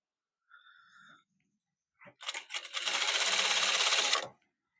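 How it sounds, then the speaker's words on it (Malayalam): A sewing machine stitches a folded fabric piece in a loud, close, rapid whirring run of about two seconds, preceded by a few brief clicks and a faint hum. "പീസ് മടക്കി അടിക്കുവാണ്"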